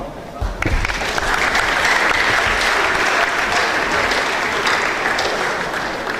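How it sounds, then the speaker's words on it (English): Audience clapping at a DevFest Owerri 2023 tech event, a dense, steady wash of applause from a large crowd that swells in after half a second and holds loud and even throughout. "You guys should clap."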